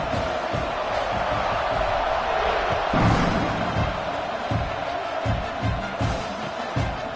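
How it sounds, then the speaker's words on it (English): A stadium crowd buzzes after a score at a college football game, a dense continuous roar of voices with scattered thumps and swells, loud throughout. "this crowd is buzzing after that last score"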